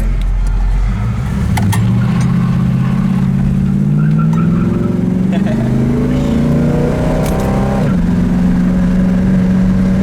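A 1970 Chevrolet El Camino's engine drones loudly while driving, its pitch climbing steadily as it accelerates, then dropping with a gear shift before rising again; people talk over the engine noise.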